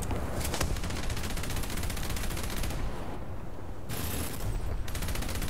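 20mm Oerlikon cannon firing from inside a vehicle in War Thunder, a loud continuous rapid string of heavy booming shots with brief gaps, dense and close throughout.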